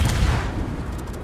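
Warship main gun salvo in World of Warships, fired by the Petropavlovsk: a single heavy, booming blast at the start that rolls off into a low rumbling tail.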